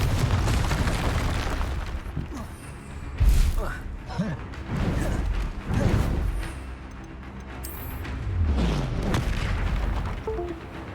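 Repeated Confringo explosion spell blasts in Hogwarts Legacy, a series of booming impacts and crashes spread through a continuous stretch of combat, with voices calling out spell names between them.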